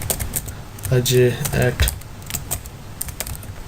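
Keys clack on a computer keyboard while logging in to a PHP blog application, quick irregular taps under someone speaking briefly in the middle.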